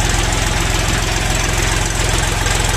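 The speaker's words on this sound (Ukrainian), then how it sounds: "дуже класно звучить трактор" A mini tractor's small engine idles loudly and close by, its rapid, even chugging pulse steady and unbroken throughout.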